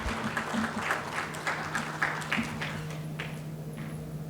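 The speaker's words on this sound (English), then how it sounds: "Can we have a round of applause for sir" Guests at a 2023 stroke conference and awards ceremony give a modest round of applause, fairly sparse, distinct claps fading after a few seconds over a steady hall hum.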